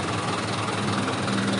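A 2013 Euro 6 truck with a new engine idles close by, a dense, steady, loud low rumble with no talking.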